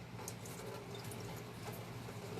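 Water runs off a pair of Air Jordan 10 and Jordan Trunner LX sneakers during cleaning, a steady, close splashing and trickling stream that stays even throughout with no voices.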